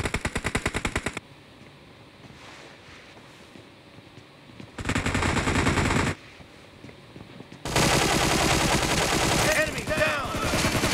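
Loud machine gun fire in PUBG comes in three long, sustained bursts of rapid shots, separated by quieter gaps of low background rumble. Faint tones sound near the end.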